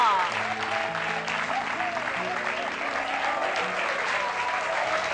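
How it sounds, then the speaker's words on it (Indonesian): Steady applause from an audience at an evening business-awards event, honoring winner Heru Kuncoro, sustained and fairly loud throughout with music tones and a voice faintly beneath. "mohon tepuk tangan untuk Bapak Heru Kuncoro"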